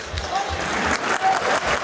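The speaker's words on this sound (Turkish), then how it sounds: "Seyirciden de alkışlar geliyor." A crowd applauds at an MMA fight (CFC 1, Farid Alibabazade vs Magomed Magomedov), a broad wash of clapping that rises and dips under a commentator's voice.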